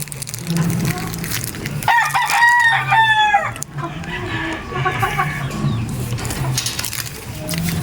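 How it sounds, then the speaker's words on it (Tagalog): A gamecock rooster crows loudly and close by at a breeding farm, its long harmonic call rising then trailing off, with other chickens clucking in the background. "broodcock na authentic Mount Banahaw kay Sir Ramon Monchero"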